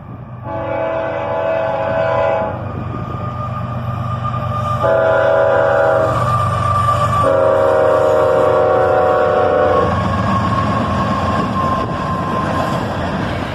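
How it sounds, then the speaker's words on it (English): A CSX manifest freight train led by ES44AC, GP40 and ET44AH locomotives sounds its horn in several long blasts while rumbling close past a road crossing, the horn loud and dominant over the rolling noise. "A manifest train, led by an ES44 ACH, a GP42, and an ET44AH."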